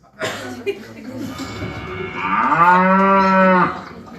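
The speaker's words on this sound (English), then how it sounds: "And it was mixed with the sound of cows." A cow lets out a long, loud, drawn-out moo that rises and holds steady before cutting off. It stands alone with no talk over it.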